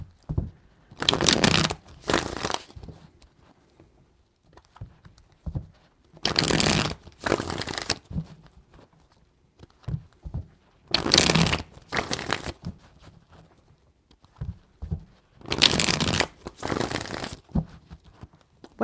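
Tarot cards are shuffled in three distinct bursts of riffling, each a crisp, close rush of flicking card edges separated by short pauses with faint handling sounds.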